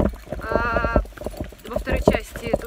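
Hooves of a horse clip-clopping at a fantasy-themed equestrian photo shoot, a white horse costumed as a unicorn, with a steady run of close, distinct hoof strikes while people talk over them throughout.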